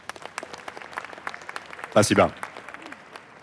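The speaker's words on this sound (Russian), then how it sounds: "Аплодисменты." A studio audience claps to welcome a guest from France on a Russian interview show: light, scattered handclaps at moderate distance, interrupted midway by a short spoken word before the clapping trails off.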